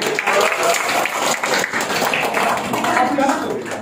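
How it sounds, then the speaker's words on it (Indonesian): A crowd claps and applauds steadily after a poetry recitation, a dense patter of hands with voices mixed in. "Oke, tepuk tangan."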